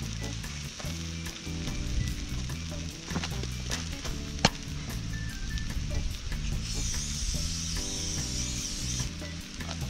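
Sausages frying in oil on a portable cooker during a bike trip, giving a steady close sizzle with occasional clicks and scraping over a low engine-like hum.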